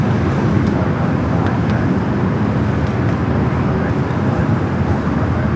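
Philippine Airlines jet taking off from LAX, a broad, steady roar of engines heard from a distance with constant rumbling underneath.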